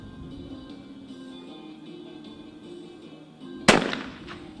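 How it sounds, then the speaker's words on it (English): A single shotgun blast rings out at a skeet range during test firing before a women's team medal match at an ISSF World Cup in Cyprus, sharp and somewhat distant above a low steady background hum, with a short decaying tail. "The finalists, the athletes, are doing some test fire, as they usually do before the finals"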